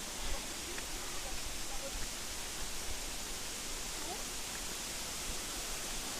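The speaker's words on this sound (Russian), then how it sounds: "Слышно уже, как журчит водопад." A Chegem waterfall in the mountains of Kabardino-Balkaria gives a steady, dense broadband rush of falling water that never lets up, heard fairly close as continuous wash.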